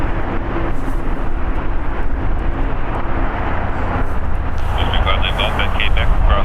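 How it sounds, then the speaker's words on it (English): SAS Airbus A350-900 coming in to land at LAX, a broad steady jet roar with rumbling low end. A voice talks over it and a high tonal whine appears toward the end. "That is SAS Flight 931 coming in from Copenhagen. A 10-hour and 18-minute flight. It's an Airbus A350-9"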